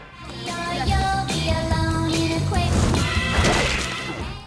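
A movie sound effect of a dummy's head being smashed, loud and crunching with sharp impacts and shattering debris, set over a tonal music bed.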